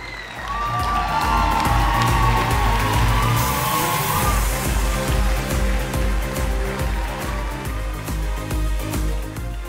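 An audience applauds and cheers to welcome a singer onto the stage at the grand final of a Turkish song contest. The clapping and whoops are loud and sustained, heard over pounding rhythmic music.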